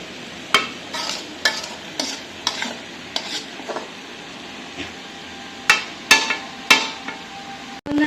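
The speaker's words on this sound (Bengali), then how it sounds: "এভাবে সরিয়ে সরিয়ে দেবো যেন সব মাছ আলু খুব সুন্দরভাবে ভাজা হয়ে যায়" Mouka fish and new potatoes stirred while frying in a pan, with repeated sharp scrapes and knocks of a utensil against the pan over a low, steady sizzle, close and fairly loud.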